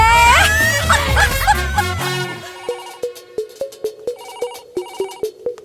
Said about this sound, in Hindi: कब से बज रहा है फोन, उठाने को नहीं होता?